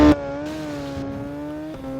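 A motorcycle in the VRider SBK racing game accelerates hard down a straight at the Magny-Cours circuit, a sustained engine tone holding its pitch with a short dip near the end, close and steady with no talk.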